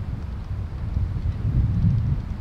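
Wind gusts buffet an outdoor microphone, producing a steady low rumble that swells slightly toward the end, with no voices.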